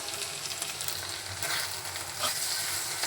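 Dried lotta fish (shutki) cooks in a pan as a bhuna, giving off a steady, close sizzle and crackle of frying with faint stirring scrapes. No one talks over it.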